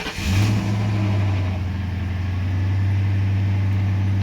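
A 2007 Ford Crown Victoria Police Interceptor with 2,277 engine idle hours starts up and settles into a loud, steady, close idle with a deep rumbling hum and no voices.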